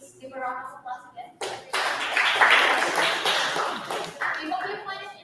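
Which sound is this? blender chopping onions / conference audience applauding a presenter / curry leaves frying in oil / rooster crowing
conference audience applauding a presenter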